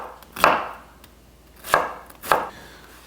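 A knife chops a red onion on a board in three distinct, crisp strikes, the first followed by a pause of over a second before two more close together, close-up with no talking.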